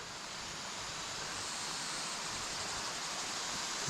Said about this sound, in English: And lots of water coming from everywhere. Waterfall over there.